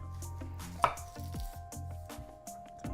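A knife chops the ends off a yellow onion on a cutting board, a series of crisp, close thuds and taps in an uneven rhythm, quiet, with a brief metallic clink and no talking.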